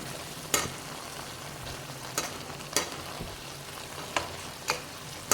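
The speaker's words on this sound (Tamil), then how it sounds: "இப்போ அதையும் சேர்த்துக்கிட்டு நல்லா நம்ம மிக்ஸ் பண்ணிக்கலாம்." Chicken with dried red chillies sizzles in a pan for a mint chicken dish, with a steady frying hiss broken by about six sharp, evenly spaced spoon scrapes as it is stirred, close and alone.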